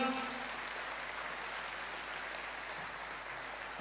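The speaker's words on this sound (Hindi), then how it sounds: "एक बार जोरदार तालियों से इनको बधाई दीजिएगा" Audience at a Hindi poetry gathering (kavi sammelan) applauding a poet, faint, steady, distant clapping throughout.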